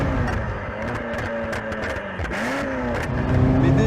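A 2007 Ferrari F40 engine pulls in fourth gear at half throttle, a loud, close, rising drone with gear-whine overtones that holds and builds toward the end.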